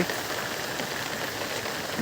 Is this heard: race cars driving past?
no